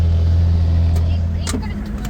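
A Toyota Landcruiser's engine idles with a steady low drone while lining up for a barge to Fraser Island, a close, constant rumble that eases slightly near the end, with faint background sounds above it.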